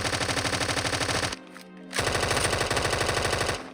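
Rapid automatic Glock gunfire in a Minecraft mod game, fitted with a muzzle brake and a suppressor, comes in two loud, evenly spaced bursts separated by a short pause.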